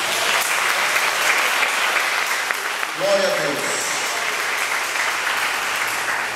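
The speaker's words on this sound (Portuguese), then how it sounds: "Eu queria que você aplaudisse a Jesus por isso." A church congregation applauds steadily throughout, the clapping dense and full, while a voice briefly speaks a short praise phrase partway through.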